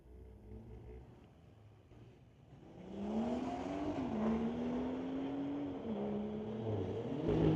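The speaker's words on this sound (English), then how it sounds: "Luke Savant in the 2018 Golf R going against Gurdeep Bisla from Squamish in the 2018 BMW." A 2018 Volkswagen Golf R and a 2018 BMW street drag racing: engine drone heard from a distance grows louder as the cars accelerate, with rising and shifting engine pitch through gear changes.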